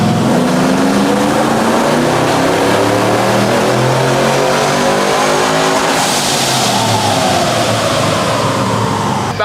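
A car engine revs hard on a dyno with a locked torque converter, a loud continuous roar climbing steadily in pitch through the run before easing off at the end.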